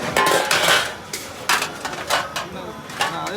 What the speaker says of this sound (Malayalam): പാത്രം എടുത്ത് മാറ്റി കൊടുത്തു